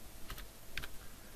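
Quick keystrokes on a computer keyboard while entering a number into building design software, a couple of short clustered taps, quiet and close, with no talking.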